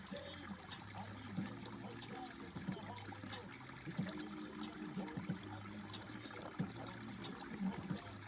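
Water sloshing and trickling in a gold pan rocked back and forth during panning, a faint rhythmic swish and dribble that repeats every second or so.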